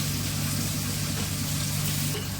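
Chopped onions and green chillies fry in a pan with a steady, dense sizzle and hiss, constant and fairly close throughout with no voices.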